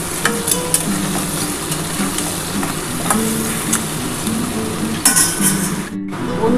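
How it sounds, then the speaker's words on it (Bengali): Crab pieces frying with spices in a pan for a crab curry, a steady loud sizzle with scraping stirs and occasional clinks of utensil on metal, a brief drop near the end. "এবার আমি এটা ভালো করে একটুখানি মশলাটার সাথে কাঁকড়াটা ভেজে নিই"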